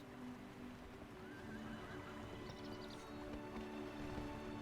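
Horses in the Battle for Middle-earth strategy game whinny and neigh over the clip-clop of hooves, as Rohirrim archer cavalry ride amid a quiet, busy battle soundscape.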